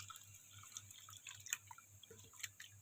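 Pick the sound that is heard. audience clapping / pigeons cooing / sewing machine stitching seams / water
water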